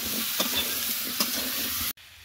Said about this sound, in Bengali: বেগুন আলু একটু ভাজা ভাজা হয়ে গেছে